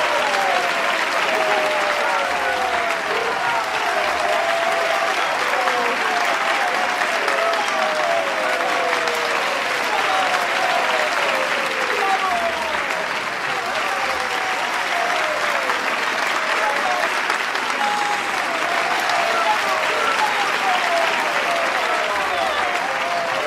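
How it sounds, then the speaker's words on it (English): A large crowd applauds steadily and loudly, a dense wash of clapping that holds without a break for over twenty seconds. "So big round of applause for those people who did that."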